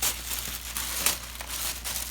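Plastic packaging from an LG 55-inch UHD TV unboxing crinkles continuously as it is pulled open, close and busy with uneven rustling peaks throughout.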